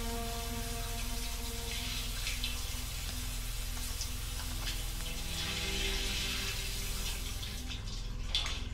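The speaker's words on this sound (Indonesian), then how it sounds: "Terdengar suara keran air dimatikan" Water runs steadily from a tap in a constant splashing hiss, close and unbroken throughout.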